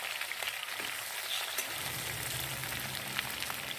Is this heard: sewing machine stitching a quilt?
no